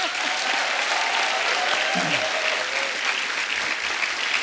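A studio audience claps steadily in sustained applause on a comedy talk show, with a faint voice briefly audible underneath.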